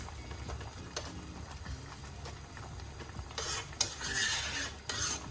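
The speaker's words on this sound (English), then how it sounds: "I'm going to allow this to simmer for about 3 to 4 minutes." A pan of Indonesian prawn curry simmers and bubbles softly at close range, with occasional light stirring and utensil clinks, steady and fairly quiet throughout.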